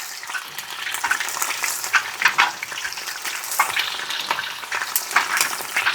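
Chicken wings deep frying in a fryer full of hot oil give off a dense, continuous crackling sizzle with bursts of sharper pops, close and fairly loud, with no talking.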